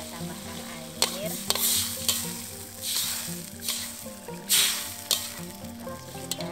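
Water poured into a hot frying pan with lime juice, hissing into a loud sizzle while a utensil scrapes and stirs in irregular strokes, close and without talk.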